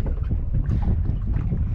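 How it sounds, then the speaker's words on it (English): Steady wind rumbles across the microphone with low buffeting, continuous and close, no voices. "Bit windy this morning"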